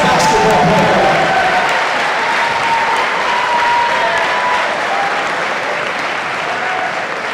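Sustained crowd applause fills a high school gym for the Leominster High School class of 2023 boys basketball seniors, loud and steady with scattered cheers, gradually easing slightly toward the end.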